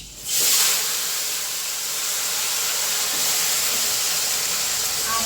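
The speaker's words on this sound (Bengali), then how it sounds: "এখন মাছ ভাজা তেলে ফোড়ন দেবো, মেথি" Fenugreek seeds dropped into hot oil left from frying fish give a loud, close, continuous sizzling hiss that bursts up at once and holds steady, with no talk.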